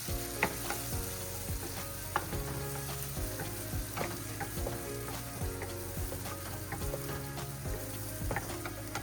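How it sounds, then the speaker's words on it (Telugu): Onion and tomato frying in a pan for a restaurant-style kadai paneer, a loud constant sizzle with repeated metallic spoon scrapes and clinks against the pan, close and busy throughout, no talk. "ఇది వేసుకొని కొంచెం పచ్చివాసన పోయే వరకు ఫ్రై చేసుకోవాలి."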